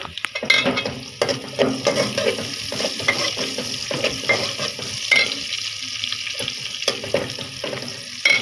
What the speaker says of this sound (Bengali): আর কয়েকটা আমি মেখে রাখছি এগুলি ভাজবো